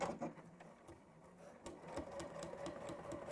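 A domestic sewing machine stitches down over a zip with a metal stop, giving a quiet, rapid mechanical whirr with small ticking needle strokes and brief pauses and restarts, close up.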